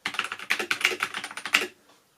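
Rapid typing on a NOS C-450 mini mechanical keyboard with plastic construction: a close, crisp run of clicky keystrokes in an uneven rhythm, then a stop into near silence.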